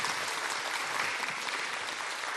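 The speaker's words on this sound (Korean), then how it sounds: "저 살면서 이렇게 큰 박수 처음 받아보는 것 같아요" Big, dense applause from an audience greeting a guest speaker on stage, steady, loud and continuous clapping with no voices over it.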